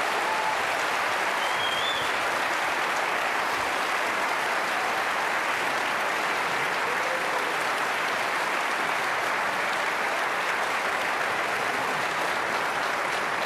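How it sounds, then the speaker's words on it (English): A debate audience at a Connecticut gubernatorial primary event gives the candidates steady, dense applause from a full room, continuous clapping throughout with no talk over it. "Give me a big round of applause for our candidates."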